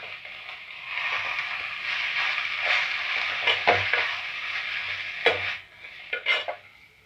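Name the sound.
stirring and sautéing drumstick leaves in a pan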